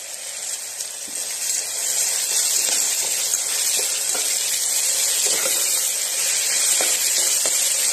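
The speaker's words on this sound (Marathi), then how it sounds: "मीठ टाकते म्हणजे कांदा पटकन भाजून" Onion frying with salt in a pan makes a continuous, fairly loud hissing sizzle that swells slightly early on, then stays steady, with faint scattered pops and no voices.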